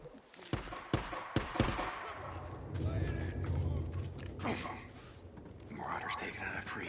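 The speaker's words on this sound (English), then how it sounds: "Did I hear gunfire?" Distant gunfire in the video game Days Gone: a few sharp cracks come in the first seconds, followed by a low, rumbling battle ambience that continues to the end.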